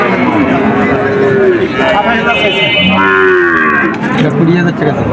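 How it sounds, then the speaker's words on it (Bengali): A calf moos at a cattle market in Betaga, Bagerhat, a loud drawn-out low bellow repeated a few times, close by, amid busy crowd noise and people talking. "এখানে দেখা যাচ্ছে আরেকজন একটা বাছুর নিয়ে রাস্তার অপেক্ষায়।"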